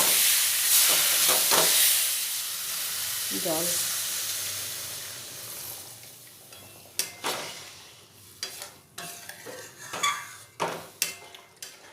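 Chopped coriander gets stirred into an egg curry in a pot, a soft simmer with steam at first, then a run of sharp utensil scrapes and clinks against the pan toward the end.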